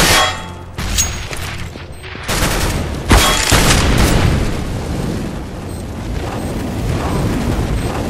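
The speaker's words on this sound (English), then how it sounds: "Throwing grenade." Grenade blasts and gunfire in Counter-Strike: Global Offensive, with a few loud booming bursts and crackling shots over a constant noisy battle background, close and heavy.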